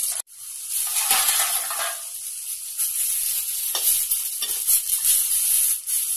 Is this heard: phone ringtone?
no